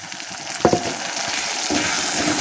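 Tomatoes fry in oil in a pan for a paneer curry, giving a continuous close sizzle with a sharp clatter of a utensil early on and the hiss swelling slightly near the end.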